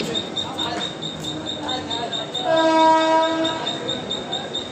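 A Mumbai suburban local train arrives at a platform with rolling rail noise and a steady high whine, a loud horn blast near the middle, and station announcements in the background.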